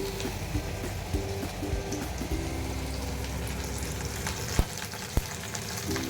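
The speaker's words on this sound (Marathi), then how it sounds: "त्याच्यामध्ये आईंनी लसणाला फोडणी दिलेली आहे." Garlic sizzling in hot oil as a tempering for a curd okra dish, a dense continuous hiss close up with a couple of sharp clinks from a utensil against the pan.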